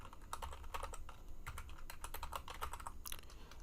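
Rapid keystrokes on a computer keyboard while writing Prolog code, a steady run of close, crisp clicks that carries on without pause and with nobody speaking over it.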